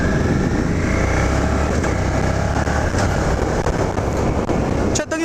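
A 2017 Suzuki SV 650 motorcycle engine drones loudly and steadily throughout, its rumble nearly constant while riding, with a brief dip near the end.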